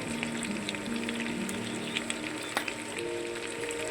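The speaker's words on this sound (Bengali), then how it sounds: "এবার আমি এটা ভালো করে আরেকটু ভেজে নেবো পেঁয়াজটা।" Onions frying in a pan with garlic, capsicum and salt, for restaurant-style chilli paneer, give a steady close sizzle and crackle with no one speaking.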